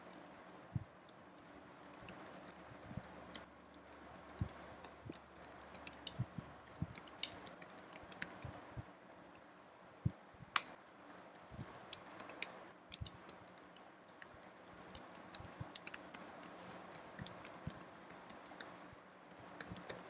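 Typing on a computer keyboard while entering xcodebuild archive and export commands in a terminal, a long run of crisp, close key clicks in uneven bursts with brief pauses, no voices.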